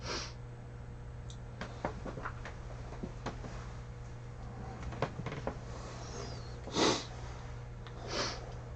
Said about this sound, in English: So we sit here and we sniff all day.